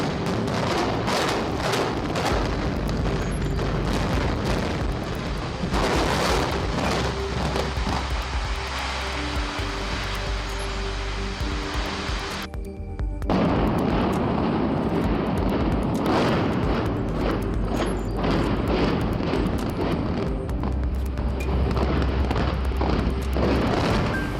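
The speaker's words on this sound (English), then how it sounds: "was brought down with a controlled implosion in December of that year" A tall concrete building comes down in a controlled implosion rigged with detonating cord, heard as a sustained, loud, rumbling roar of blasts and collapse that swells and continues throughout, heavy in low rumble.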